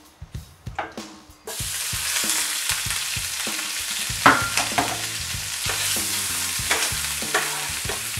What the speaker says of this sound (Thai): นี่เบาไฟไว้ก่อนนะ เราจะให้เบคอนมันคายน้ำมันออกมาครับ